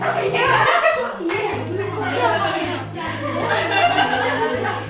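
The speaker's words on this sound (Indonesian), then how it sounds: "Ibu bikin tepuk-tepukan kayak gitu" Rhythmic group clapping in a classroom during a mathematics microteaching lesson on linear equations in two variables, steady patterned claps mixed with children's chatter and some chuckling.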